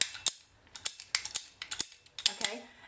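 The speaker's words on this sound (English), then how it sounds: "it's like a ratchet, so you're not using all your strength to try to cut that pipe, and it does a nice job cutting it" Ratchet pipe cutter clicking through a pipe in a quick series of sharp, close mechanical clicks and snaps.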